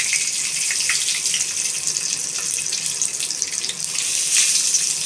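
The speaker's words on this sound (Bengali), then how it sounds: "তেজপাতা, শুকনো লঙ্কা ছেড়ে দিচ্ছি, আর এই যে গোটা জিরে" Bay leaves, dried chillies and whole cumin seeds sizzle in hot oil in a pan for a Bengali katla fish curry, a steady, dense crackling hiss that holds evenly throughout.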